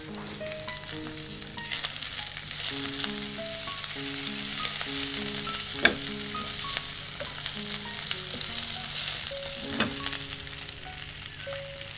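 Capsicum (bell pepper) fries in a pan with onions, a steady close sizzle running throughout with occasional stirring clatter, under soft background music.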